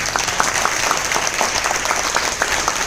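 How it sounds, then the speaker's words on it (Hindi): Loud, dense applause from a crowd at a training meeting in Ahmedabad, honoring an attendee from Jabalpur, continuous clapping throughout. "जबलपुर से आया, इसके लिए जोरदार तालियां।"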